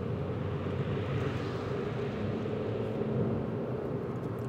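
Suzuki Ignis accelerating at full throttle on the road, heard as a steady, broadband engine roar and rumble that holds throughout without a break.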